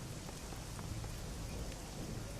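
Steady, dense rain hisses and patters continuously in Shadowrun: Hong Kong, a loud even downpour with no voices.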